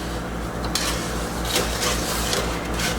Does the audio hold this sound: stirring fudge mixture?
yes